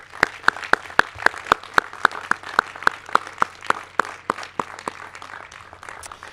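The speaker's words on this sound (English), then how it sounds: "would you please join me in giving a round of applause for your family members here and online" Families of the Class of 2022 graduates are applauded at a high school graduation ceremony, heard as a steady train of sharp, evenly spaced claps over a low hum, slowly thinning toward the end.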